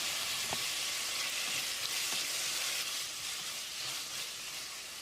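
Chopped tomatoes fry with a steady, crackling sizzle in a pan for mutton pepper curry, punctuated by a few soft clinks of stirring, with no voices.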